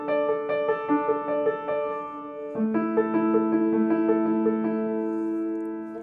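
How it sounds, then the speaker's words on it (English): Piano playing a steady left-hand bass line in open fifths with octaves, repeated notes pulsing evenly, shifting lower halfway through. No voices. "if I just played the left-hand line in fifths with an octave"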